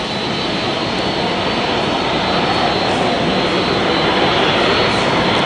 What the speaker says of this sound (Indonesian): Ada kedatangan satu pesawat.